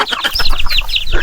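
Chickens of a good breed clucking close by on a small farm, a steady run of short, busy calls over outdoor background noise.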